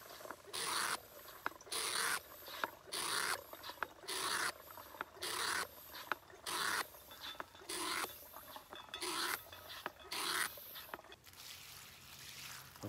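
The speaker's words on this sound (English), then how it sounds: "you can pump water straight out of the stream through the filter" A water bottle filter's hand pump draws stream water in rhythmic bursts of squeaky, rasping strokes with watery trickling, repeated steadily about a dozen times, close up with no talking.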